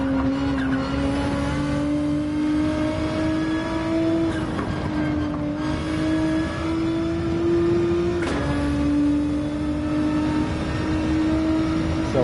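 A Nissan GT-R races in Gran Turismo 7, its loud engine droning steadily as revs climb, with two sharp shift drops and continuous road and tire noise.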